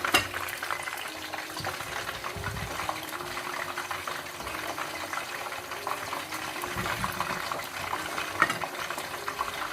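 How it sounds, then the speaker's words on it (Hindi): Fish fries in a pan for a fish masala curry, giving a steady, close sizzle and bubbling hiss that runs evenly throughout with no talking. "ये जब तक फ़िश फ्राई हो रही है"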